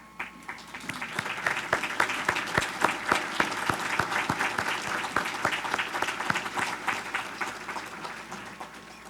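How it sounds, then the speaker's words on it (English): An audience at a chamber of commerce gathering gives a warm round of applause for event volunteers, many distinct hand claps building to a steady ovation that holds for several seconds, indoors and moderately loud. "I would like to ask them to stand so we could give them a warm applause"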